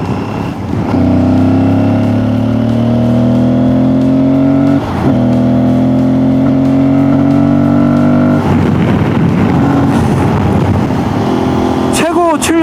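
Aprilia Tuareg 660 motorcycle, a high-revving engine, revs up in loud sustained pulls with rising pitch, dips briefly between pulls, and ends with a sharp quick blip, while a voice talks over it throughout.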